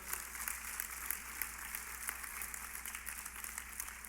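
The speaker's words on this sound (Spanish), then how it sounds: "Denle un fuerte aplauso al Señor." Applause from a church congregation during a Sunday morning service, steady dense clapping at moderate distance sustained throughout with no voices over it.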